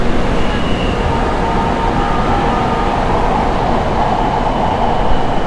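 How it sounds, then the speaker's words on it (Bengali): Metro train running on an elevated track overhead beside the Pattaya bus terminal, a steady loud rumbling roar that holds for the whole stretch with a faint high whine, no talk over it. "উপর দিয়ে কিন্তু মেট্রো চলতেছে"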